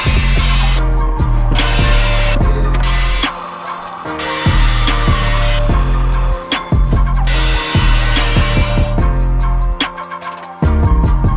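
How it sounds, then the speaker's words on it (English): An Evo metal-cutting saw mitering metal pieces for a welded jungle gym frame: a loud, steady motor hum breaks into several gritty cutting bursts with short pauses between them, with no talking. "I decided to set up the Evo saw just because we already know how to miter with it."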